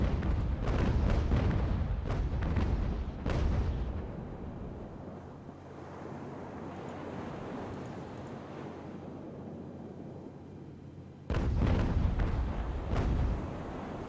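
Naval cannon firing grape shot in the age-of-sail game Ultimate Admiral: Age of Sail, a loud burst of booming shots at the start, a rumbling fade over sea ambience, then another heavy volley near the end.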